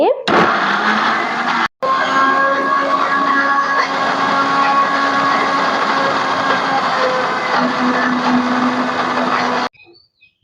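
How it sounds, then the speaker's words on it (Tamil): A kitchen blender grinds mango for juice, a loud steady whirring motor drone lasting nearly ten seconds, with a brief cut early on and quiet afterward. "இப்போ இந்த மூடியை நல்லா டைட்டாக க்ளோஸ் பண்ணிவிட்டு நாங்கள் அரைப்போம்."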